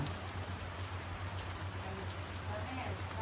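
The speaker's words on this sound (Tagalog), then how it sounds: "Oh, umulan na." Rain hisses steadily on a motorcycle trip in Thailand, with a constant low rumble beneath the wash of drops.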